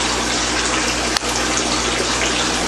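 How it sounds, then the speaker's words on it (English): Distilled water pours steadily from a water redistribution bar in a continuous loud, hissing gush, with one brief click partway through. "There it is, the water is coming right out."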